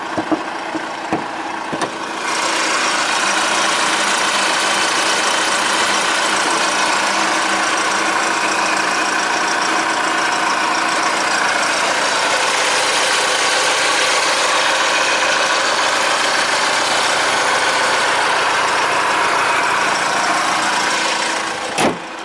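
A Honda CR-V 2.2 i-CTDi diesel engine idles steadily and loudly up close under the bonnet, a continuous rumbling hum with faint vibration, starting after a brief quieter moment and running without talk.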